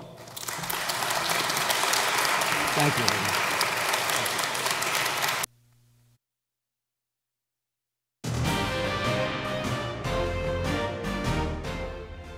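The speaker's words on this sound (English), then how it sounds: "You can applaud now." A studio audience at a 2015 Rockville election candidate debate claps loudly and steadily, stops into near silence, then breaks into another burst of applause.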